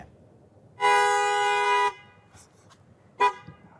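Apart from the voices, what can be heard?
car horn honked by black bears inside parked SUV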